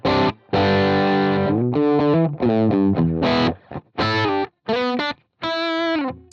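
Electric guitar played through an IK Multimedia amp tone model, dry and distorted, with bursts of gritty chords and short riffs separated by brief silences.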